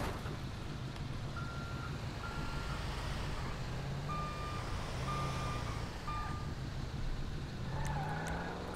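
Truck reversing beeps in a video game, a repeating electronic tone heard faintly over a steady low engine hum and wind-like noise, with no talking.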